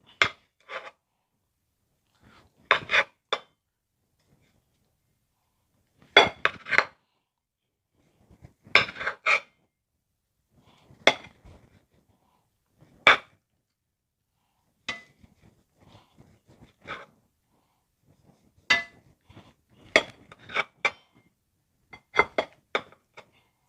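A knife slices through cooked steak on a board in a series of short, quiet scraping strokes, grouped in spaced clusters with near silence in between.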